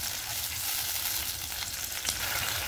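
Tomato puree fries in oil with a soft, even sizzle and a faint stir or scrape partway through, quiet and close.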